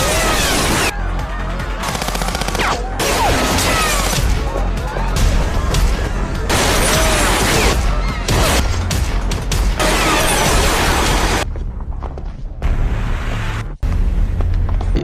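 Loud, chaotic bursts of gunfire and crashing impacts in rapid succession, mixed with dramatic noise, then brief quiet gaps near the end.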